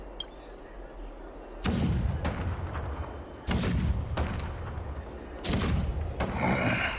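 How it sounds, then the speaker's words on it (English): Heavy cannon blasts boom in a loose series in the video game Honkai Star Rail, each leaving a deep rolling rumble that lingers before the next shot. "The rumble of the cannons."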